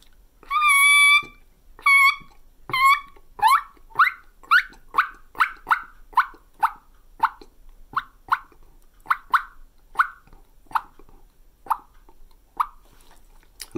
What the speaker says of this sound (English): that's the basics of a bubble cluck on a mouth call